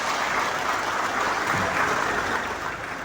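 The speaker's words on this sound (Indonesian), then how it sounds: "Tepuk tangan untuk PKS." Crowd applause for the PKS party at an Anies Baswedan rally before thousands of cadres, a dense steady wash of clapping holding loud for about three seconds before easing slightly at the end.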